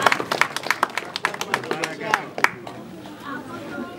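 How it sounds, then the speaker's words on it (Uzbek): Clapping from an audience at a Khudoyi gathering in Shurqurghon, Istiqloliyat, as sharp irregular claps for about two and a half seconds, then fading into murmuring chatter. "Qarsak cholishni davom etaveringlar."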